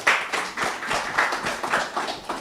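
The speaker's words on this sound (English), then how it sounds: "So a round of applause to Jessica," Applause for a speaker at a panel on nuclear power generation in Africa comes from a small audience, with distinct hand claps at a loose, uneven rhythm, close and fairly loud.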